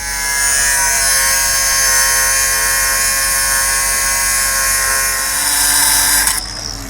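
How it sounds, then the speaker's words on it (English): A large impact wrench tightening the steering shaft of a Peterbilt 379 truck, one loud continuous high whine running close and steady for about six seconds before it cuts off. "I grabbed my big impact wrench, try to tighten it up a little"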